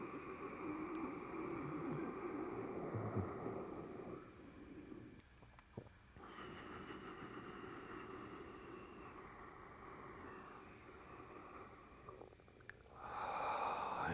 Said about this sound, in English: I am breathing in and I am breathing out.